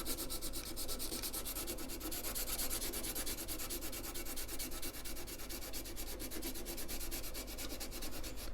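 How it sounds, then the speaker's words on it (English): Sandpaper scuffing old glue off a metro panel during a restoration, a continuous rapid back-and-forth rasping, close and even in loudness throughout. "a little bit of sandpaper, I'm going to scuff down the area, get rid of the old glue."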